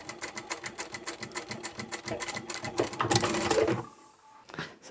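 A sewing machine stitches fabric tote bag handles with a fast, even rhythmic chatter, up close, briefly speeding up before stopping and leaving a few soft handling clicks.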